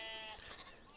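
Sheep bleating on a farm in a farming video game set on the Ballincraig map, a wavering animal call drawn out over about a second against a steady background hum, with no talk.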